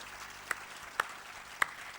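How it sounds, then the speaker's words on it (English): Audience applause for speakers at a literature festival session, a soft, continuous patter of clapping with three sharper, nearer claps standing out at roughly half-second intervals. "I'd like a round of applause for my speakers, please."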